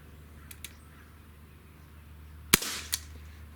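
A single sharp crack from a Gamo PT-80 air pistol rings out alone in a quiet space, followed by a faint echo or impact shortly after, with soft clicks earlier.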